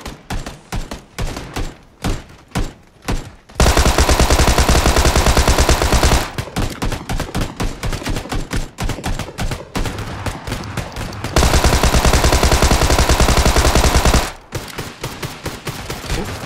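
Machine gun fire in the PUBG battle royale game: bursts of rapid single shots give way to long continuous loud volleys, then more bursts, close and dominant with no talk.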